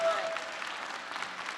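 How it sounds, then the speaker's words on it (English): Short burst of audience applause for a panel at a discussion event on race in America, an even spread of clapping from a sizeable crowd with no voices over it. "Give our panel a round of applause, please"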